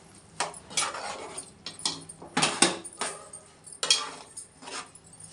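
A spoon scrapes and knocks inside a pot as gongura leaves are stirred into mutton curry. There are about seven irregular metallic clinks and scrapes, close and fairly loud, with no talking.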